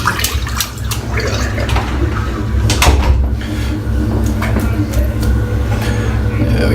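A shaving brush is rinsed under running water, a steady close splashing flow with intermittent clatters and knocks against the basin, while a low background rumble persists throughout.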